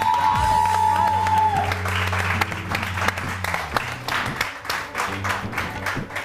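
A studio audience on a morning TV show breaks into sustained, dense applause, many hands clapping steadily throughout, with a brief tonal hum underneath at the start.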